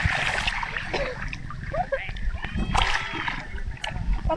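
People splash about while bathing in the cold sea, with sloshing water and scattered splashes close by and voices talking and calling out over the continuous watery noise.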